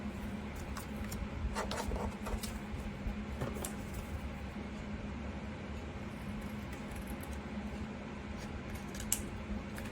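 Scissors cut strips of paper for a bullet journal, with soft repeated snips and rustles at close range over a constant low background hum, busier early on.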